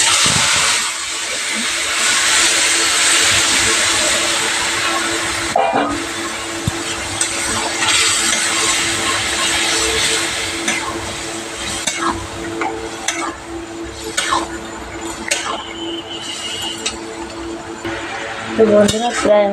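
Taro greens go into a pan with browned prawns and fry, with a loud, continuous sizzle that fades and returns under repeated scraping and clattering from stirring, ending in a few metallic knocks.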